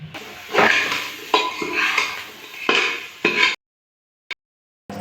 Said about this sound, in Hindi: इनको बस मसाले में भून लेंगे, थोड़ा सा तेल डाल के, सारे मसाले डाल के।